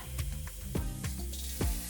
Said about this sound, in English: just place that bad boy on the grill. It's sizzling.